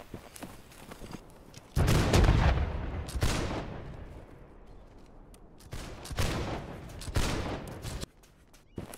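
Rocket launches and explosions in the battle game Holdfast, several loud booming blasts with crackling tails spread across the clip, mixed with distant gunfire.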